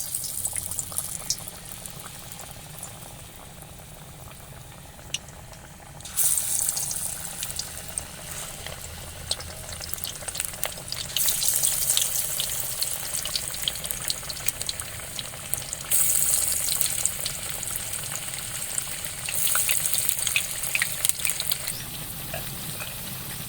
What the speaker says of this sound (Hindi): पकोड़े हम अच्छी तरह से फ्राई करेंगे।